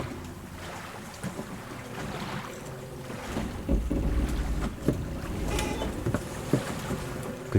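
Boat sounds in the Silent Hill 2 video game: rowing splashes and creaking wood over a steady wind-like wash, with soft irregular knocks, fairly quiet and with no voices.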